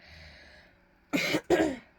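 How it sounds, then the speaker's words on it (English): Two short, close coughs in quick succession after a quiet stretch, harsh and raspy. "Sorry for the cough."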